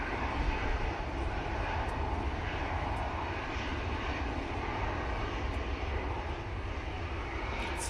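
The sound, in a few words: KLM airliner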